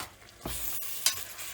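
Cloves stirred into hot oil with chili, coriander and cumin powders in a pan for chicken curry, giving a soft sizzle and a brief scraping stir, close and fairly quiet.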